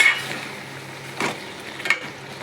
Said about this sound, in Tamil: இது கூடவே சேர்த்து நல்லா வதக்கிக்கோங்க